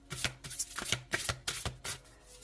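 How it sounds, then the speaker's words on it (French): Tarot cards drawn and flicked from a deck, a quick series of crisp papery snaps and slides repeating at a steady rhythm, close and clear with no voices. "on va prendre 4 cartes"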